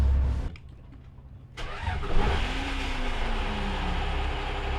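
A Sun Moon Lake tour boat, a twin-engine vessel once used by former president Chiang Ching-kuo, has its engine rumble, dip briefly quiet, then catch and roar into a loud, steady close-up drone.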